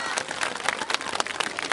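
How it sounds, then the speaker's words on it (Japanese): A crowd applauds the Kobe student yosakoi team Minato after their Nanchu Soran dance at a shrine performance, with dense, steady clapping at a moderate distance and no voices on top. "じゃあ、神戸学生よさこいチーム港にもう一度大きな拍手"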